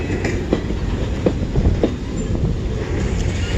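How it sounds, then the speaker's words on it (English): CN M382 mixed freight train rolling northbound in Kimball Township, running from Toledo, Ohio, to Toronto, makes a steady, close rumble of wagons with scattered wheel clicks and clanks throughout. "This train is CN M382 northbound, which from Toledo, Ohio, bound for Toronto, Ontario, Canada"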